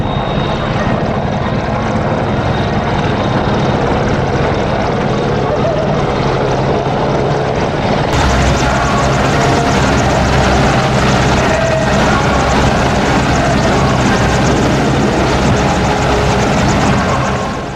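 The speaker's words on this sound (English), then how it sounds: "The winch will be used to conduct helicopter in-flight refueling." A military helicopter flies overhead with a loud, continuous rotor and engine roar during in-flight refueling, holding steady throughout with a shift in tone midway.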